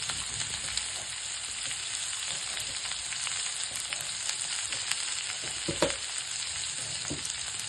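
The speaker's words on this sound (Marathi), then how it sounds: "नुसतं तेलावर तोंडली छान वाफून येणार" Ivy gourd (tondli) frying in oil with salt, a steady close sizzle with faint crackles and an occasional stir or clink.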